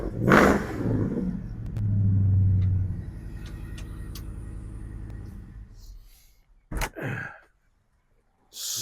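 A 1957 Chevrolet Bel Air engine cranks and catches, then settles into a low, rumbling idle as it warms up, fading out before a brief second burst of sound near the end.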